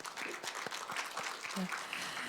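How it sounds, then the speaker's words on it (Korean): Polite applause fills a forum hall after a professor's presentation, a moderate, even patter of clapping from a seated audience with murmured voices underneath. "발표해 주신 산학협력단 부단장 강보라 교수님께 다시 한번 큰 박수 부탁드립니다"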